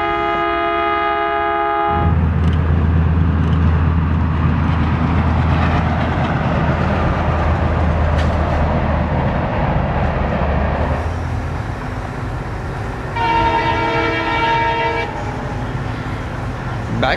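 A passenger train on the Konkan Railway at Udupi station rolls past loudly and close, with a steady rumble of wagons and a long blaring horn at the start, then a second horn blast near the end.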